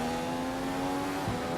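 F1 car in the F1 2015 video game at the Canadian Grand Prix, a steady high engine whine that drops sharply as the driver brakes, then picks up again; loud and continuous with no talking.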